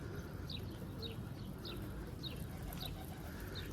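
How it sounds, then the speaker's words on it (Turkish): Blackcap singing from a rooftop: short, bright chirping phrases repeat at a steady pace about every half second, faint and somewhat distant over a constant low outdoor rumble. "Karabaş ötüyor."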